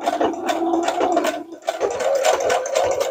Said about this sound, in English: So zigzag stitching.